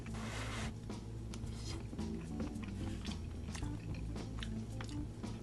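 Close chewing of hot rice cooked in a ChefWave Chefe 13-in-1 electric multicooker, soft repeated mouth sounds and squishes over a steady low background hum, with no talking.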